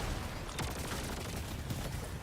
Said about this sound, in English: Stop shooting bullets at me, or lasers at me.